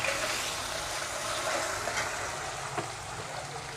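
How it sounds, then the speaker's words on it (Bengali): Amudi fish frying in a pan together with amchur, a steady soft sizzle and crackle of hot oil running throughout, close and even, with an occasional faint clink. "আমচুর আর আমুদে মাছ একসঙ্গে ভেজে নিচ্ছি।"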